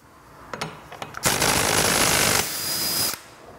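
A power tool such as an impact driver whirs loudly in two sustained bursts after a few short clicks and taps, close by, while taking apart a Vespa scooter's rear wheel.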